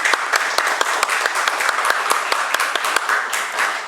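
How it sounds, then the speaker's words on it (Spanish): A hall audience at a formal session of the Academia Dominicana de la Historia applauds the academy's president, giving dense, steady clapping with sharp individual claps standing out throughout, loud and close, with no talk. "para quien pido un aplauso"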